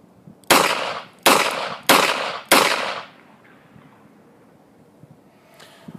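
Four sharp pistol shots crack out at an even, measured pace during a shooting drill, each with a short decaying tail, followed by quiet with faint background rustle.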